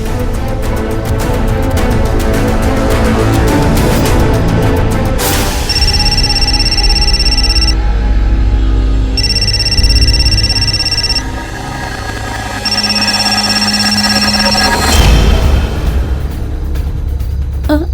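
Phone ringback tone repeating in evenly spaced bursts, steady and clear, over a constant dense background of music or ambience, with no voices.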